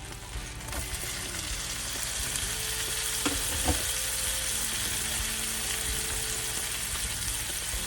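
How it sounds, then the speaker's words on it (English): Broccoli and seasoning sautéing in melted butter on an electric flat-top griddle, a steady moderate sizzle with a few sharp clicks and scrapes of a utensil, no voices. "we're gonna get our broccoli dropped in there with the seasoning and get it sauteed up real nice"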